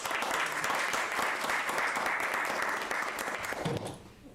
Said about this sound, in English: just give an applause for our students who have been recognized by the Columbia Urban League.